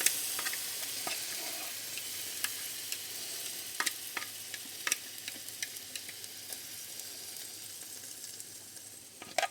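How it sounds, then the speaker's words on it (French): Chopped onion mixture sizzles in a very hot pan with a little olive oil, a steady crackling hiss with scattered sharp pops and light stirring clicks, close up, with no one talking. "on laisse bien cuire, bien fondre les oignons"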